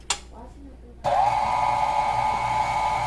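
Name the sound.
mixing pound cake batter with vanilla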